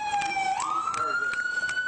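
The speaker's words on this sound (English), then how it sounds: "Who's got the goddamn siren on, dude?" A police siren wails at a scene crowded with officers and sheriff's deputies, a loud close tone rising and holding, with a person talking over it.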